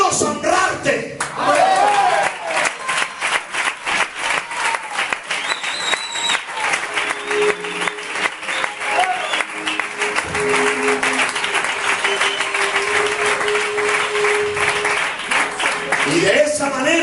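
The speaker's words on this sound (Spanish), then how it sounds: "Quiero que rompáis con un aplauso." Sustained audience applause breaks out during a storytelling talk in a hall, steady and fairly loud for most of its length, with faint voices and a few whistles or cheers now and then.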